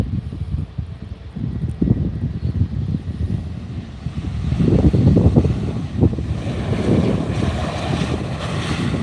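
An Embraer airliner flown by CityFlyer at Faro Airport, its jet engine rumble swelling from a low background to a louder, steady roar outdoors, with wind buffeting the microphone throughout.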